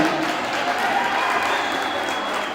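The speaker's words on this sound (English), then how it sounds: "Round of applause from that right." A steady wash of applause from a crowd at a girls' volleyball event, dense clapping filling the whole stretch at an even, moderately loud level.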